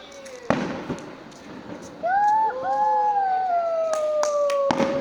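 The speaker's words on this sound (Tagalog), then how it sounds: "Fireworks!" A few sharp bangs of New Year fireworks amid loud whistling rockets rising and sliding in pitch, with cheering voices in the background, at Wind Residences in Tagaytay.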